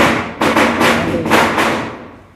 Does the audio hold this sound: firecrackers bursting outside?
yes